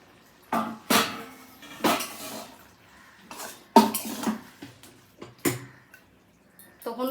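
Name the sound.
opening the lid of a cooking pot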